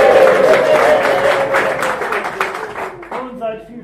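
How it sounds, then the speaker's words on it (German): Guests at a knight's banquet in a castle cheering and clapping for a minstrel, a short burst of applause and shouting that fades as a voice begins speaking over the tail. "Nun seid vielfach bedankt für die spontane Jubelgeschrei, hochehrenreiche Gäste."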